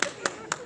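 Three sharp, evenly spaced claps from a lecture audience, fairly faint and brief, with no voices over them.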